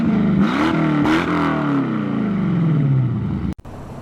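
A C4 Corvette engine revs hard, rising and falling through several throttle blips, loud and close, then cuts off abruptly near the end.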